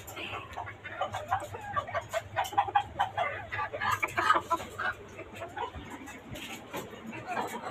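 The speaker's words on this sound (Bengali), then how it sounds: "বাড়ির ছাদের উপর খাঁচা বিশিষ্ট আপনার এই মুরগির খামারটি করার।" Chickens and roosters kept in cages on a rooftop farm cluck and call in a busy, overlapping stream of short close notes, with a voice speaking among them.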